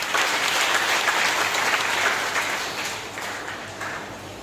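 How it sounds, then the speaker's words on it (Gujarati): A crowd at a school admission festival at a high school in Junadisa breaks into loud, sustained clapping that gradually fades over a few seconds. "એમને જોરદાર તાળીઓથી વધાવી દો."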